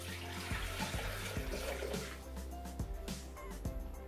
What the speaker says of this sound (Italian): Riposizioniamo il boccale, andiamo a riempirlo con l'acqua.